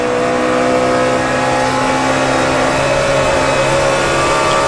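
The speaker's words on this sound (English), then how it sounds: "He can keep the engine wound up there, the RPM up." NASCAR Cup race cars at the 2007 Samsung RadioShack 500 hold their engines at high RPM, a loud, steady, sustained roar with constant droning tones and no break over the whole stretch.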